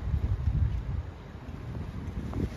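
Strong outdoor wind in Oldham buffets the microphone with steady low rumbling gusts, swelling and easing over a few seconds with no voices.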